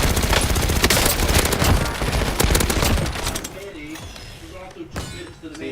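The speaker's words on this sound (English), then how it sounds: "Shots fired, shots fired." Dense, loud automatic gunfire from a Call of Duty video game fills the first few seconds in rapid bursts, then thins into sparser shots and clanks while a voice talks over the action.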